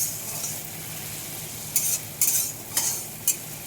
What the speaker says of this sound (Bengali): এদিকে মশলাটা কষে নিব।